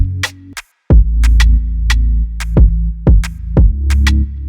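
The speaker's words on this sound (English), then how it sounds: "And I just added this snare just like to be on top." A snare layered on top of a clap in a rap and R&B beat built in FL Studio, struck repeatedly in a steady loop over deep bass hits. Loud and up front, with no talking.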